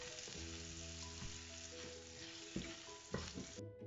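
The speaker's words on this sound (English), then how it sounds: "Saute the onions a little bit." Onions sautéing in a pan for samosa filling give a steady, close sizzle with the scrape of a stirring spoon and a couple of sharper clinks near the end, with no voices.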